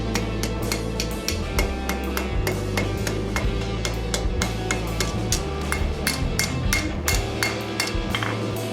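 Hammer strikes on hot steel being forged into a leaf ring out in a rapid, steady series of sharp metallic clanks, close and loud over a continuous low hum from the forge area.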